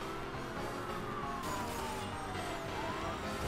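Police siren wails in the racing game Need For Speed: Hot Pursuit, a falling and rising tone sweeping across a dense bed of engine and road noise, loud and continuous with no talk.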